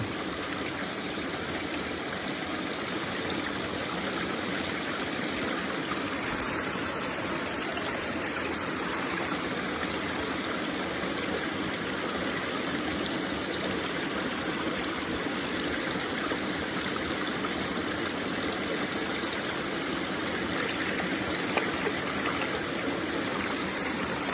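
Stream water rushes steadily over and around a gold pan held in the current of a Normandy stream while sediment washes off, making a constant close gushing wash with no breaks.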